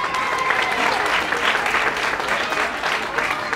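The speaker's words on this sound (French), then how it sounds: "Applaudissements." Audience applause for young Anaëlle, ambassador sash holder for the Minimis de France, at a French pageant event; steady, dense clapping from a crowd fills the whole stretch at an even level.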